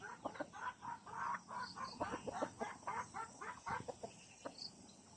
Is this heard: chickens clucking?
yes